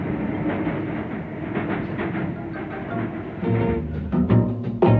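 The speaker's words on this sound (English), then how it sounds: "British-built locomotives in New South Wales. These may well be hauling goods destined to go to Britain in return." A British-built steam locomotive hauls a goods train through New South Wales in the 1950s, wheels clattering in steady clickety-clack rhythm, rumble building louder toward the end, no voices.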